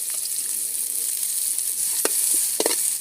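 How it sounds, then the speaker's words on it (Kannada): Chopped onion roasting in a teaspoon of oil in a pan for a village-style sprouted-bean curry, a steady sizzle with a few sharper crackles and stirs toward the end, no voices. "ರೋಸ್ಟ್ ಆಗ್ತಾ ಇದೆ ಈರುಳ್ಳಿ"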